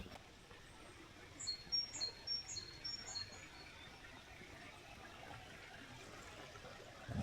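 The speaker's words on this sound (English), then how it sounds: "It's so nice to hear the birds singing" Birds singing outdoors along a city hiking trail in Vienna, a few faint high chirps close together in the first half, set against soft background noise.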